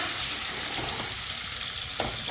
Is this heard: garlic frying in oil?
yes